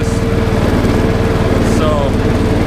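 A Stiga Tornado 2098 H ride-on lawn mower with a 12 hp engine runs steadily nearby in rainy weather, a loud, even mechanical hum with a fast throbbing pulse, a voice faintly present beneath.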